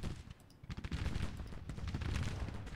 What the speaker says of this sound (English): The artillery is firing on Buford.